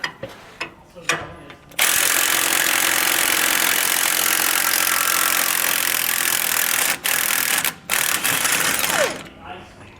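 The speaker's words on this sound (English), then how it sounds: "The bolt that you'll see down here, you'll remove with a 1 1/8 inch socket and wrench." A socket wrench works a 1 1/8 inch bolt nut on a rear anti-sway bar mount of a 2018 Forest River RV, loud continuous ratcheting for several seconds after a few short clicks, then brief pauses and a last burst, close up.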